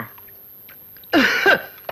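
A single short cough near the end of a quiet stretch, close and fairly loud.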